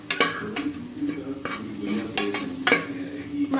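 Soaked soya chunks are stirred in a frying pan with spice masala, giving steady sizzling under repeated spoon scrapes across the pan, close and fairly loud, with no voice.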